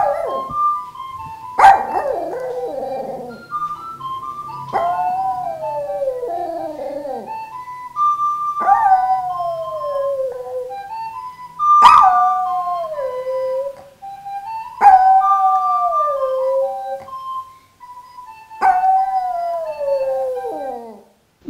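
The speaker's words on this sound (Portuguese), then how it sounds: "esse cão é um cantor, é um cantor, é um cantor" A dog howls in long, sliding, song-like wails, about seven drawn-out howls with short pauses between them, close and loud, with no talking.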